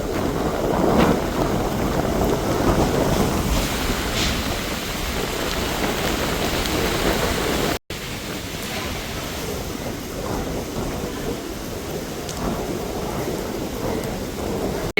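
Strong wind roars steadily through a cyclone over Jaffna, with rain noise and distant rumbles running continuously throughout.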